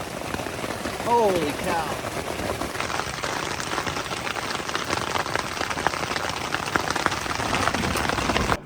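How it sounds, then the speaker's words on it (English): A heavy downpour with hail drums hard and steadily on a tent at a secluded Arizona lakeside campsite. It is loud and close, and a man's brief exclamation is heard under the roar. "despite the massive downpour and hail coming down right now"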